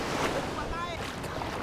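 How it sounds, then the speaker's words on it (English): Surf at a Bali beach washes in as a steady broadband hiss with soft low rumble, while a voice chirps briefly partway through. "Bali beach."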